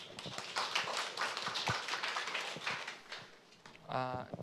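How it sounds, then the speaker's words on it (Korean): Audience applause for a presenter at a Korean government briefing session on a scale-up R&D investment track, a steady patter of many hands across most of the clip, thinning near the end as a brief voice-like tone enters. "설명 주신 최용원 실장님께 다시 한번 박수 부탁드립니다."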